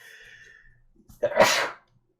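A single loud sneeze up close, preceded by a quiet intake of breath, then silence.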